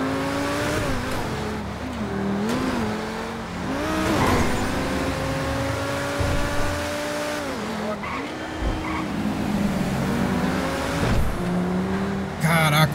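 A car driving in GTA V, its engine revving and shifting in pitch with tire squeals and skids as it corners hard, loud and continuous, with a voice talking over it at times.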